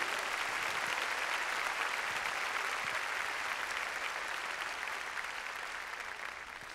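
A church congregation applauds loudly and steadily, the clapping sustained throughout and easing slightly toward the end.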